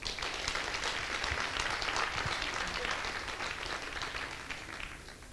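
Hall audience giving loud applause for back office staff at a company gathering, a dense, steady wash of many hands clapping that holds throughout and eases slightly at the end.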